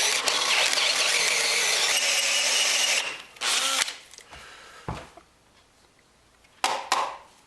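A 5/8 power cutting tool slices through a soft, unhardened metal rod from a bed frame, a loud steady grinding whir for about three seconds, then a short second burst and a few brief spurts and clicks, with no talking.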